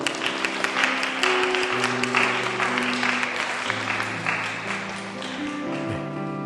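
Korean church congregation at a Sunday service applauds to welcome a foreign member, with steady clapping that slowly fades while an organ or keyboard holds chords underneath.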